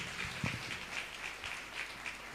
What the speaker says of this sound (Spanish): Denle ese aplauso fuerte a Cristo Jesús, por favor.